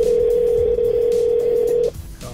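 A telephone call tone holds steady while the line waits for someone to pick up, then cuts off abruptly near the end, leaving quieter background noise.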